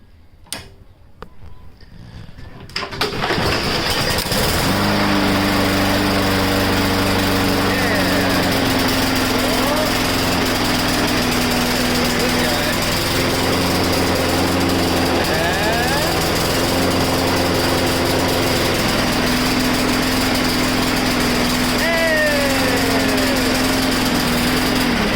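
A Huskee lawn mower with a Briggs and Stratton 500e engine starts after a few quiet seconds and then runs steadily and loudly up close, its engine drone constant for the rest of the clip.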